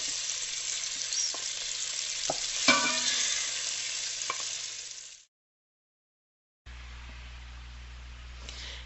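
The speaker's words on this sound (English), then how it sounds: "all you want to do is just get all the sides browned" Meat browning in a hot pan gives a steady, close sizzle with a few sharp pops for about five seconds, then cuts to silence, followed by a low, even hum.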